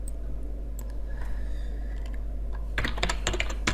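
Code is typed on a computer keyboard, a sparse few keystrokes at first, then a dense burst of rapid clicking near the end over a steady low hum.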